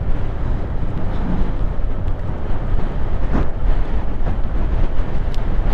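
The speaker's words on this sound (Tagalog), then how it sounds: "Lakas ng hangin." Strong wind blowing across an open grassy mountainside, a loud continuous roar buffeting the microphone with gusty rumbling and no voices.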